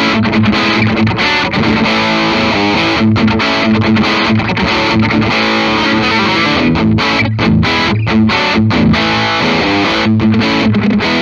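A 1978 Gibson The SG prototype electric guitar plays through heavy distortion, loud and continuous, with thick sustained chords and an effects-laden, chorus-like shimmer filling the whole stretch.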